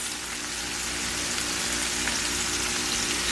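Shrimp fry in oil and butter in a pan: a dense, steady sizzle with fine crackling pops, close and continuous throughout with no break in the hiss.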